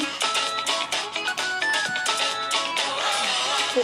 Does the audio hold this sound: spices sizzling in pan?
no